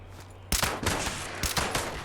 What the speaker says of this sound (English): He's just blind firing at me now.